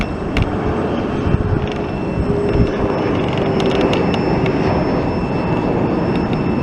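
Boeing 737-800 jet approaching to land at Raleigh-Durham airport, a broad distant engine roar with a faint steady whine, continuous and fairly loud with small ticks over it.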